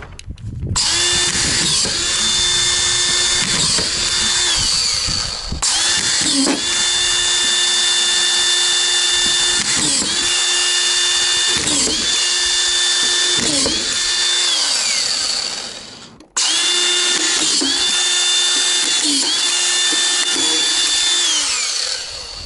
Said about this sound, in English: the solution is to screw down our furring strips, even though they're already stapled down